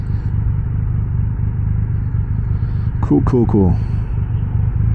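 A Triumph Rocket 3 GT power cruiser rumbles steadily as it pulls off in first gear, a loud, deep, constant engine drone close by, with a rider briefly speaking over it near the end.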